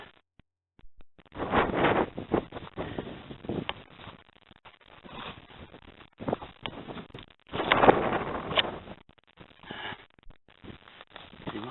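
Gusts of wind pick up in a rugged mountain valley, blowing in uneven surges and buffeting the microphone with rumbling bursts, with quieter spells in between.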